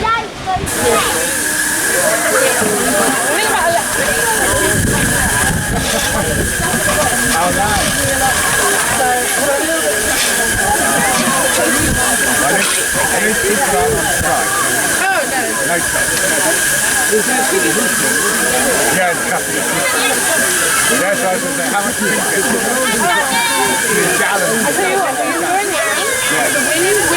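Steady loud hissing and rushing from a miniature LNER 458 steam locomotive on a miniature railway, continuous throughout with faint voices in the background.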